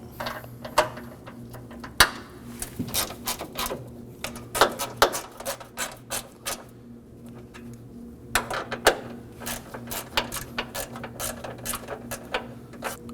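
A ratchet snugs 10mm bolts on the AC condenser cooling fan assembly of a 2014–2020 Acura MDX, making close, crisp clicking runs in irregular bursts over a low steady hum.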